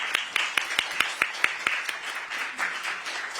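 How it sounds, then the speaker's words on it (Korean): A seminar audience gives a short round of applause to welcome a speaker, a scattering of distinct hand claps over a soft wash of clapping, fairly faint. "박수로 맞아 주시겠습니다."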